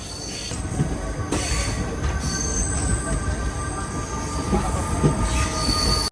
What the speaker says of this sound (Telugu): సిల్లూరుపేట రైల్వే స్టేషన్ నుంచి మనం అయితే బయలుదేరిపోయాం